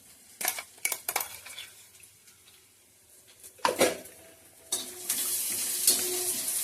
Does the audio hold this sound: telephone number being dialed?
no